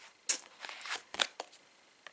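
Tarot cards shuffled and drawn by hand, a quick run of crisp flicks and papery slaps, close and quiet over a silent background.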